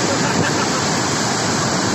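Flash flood water of the Tulis River roars through a dam gate at a hydroelectric dam in Pagentan, Banjarnegara, a constant loud, dense rushing wash that fills the whole clip without pause.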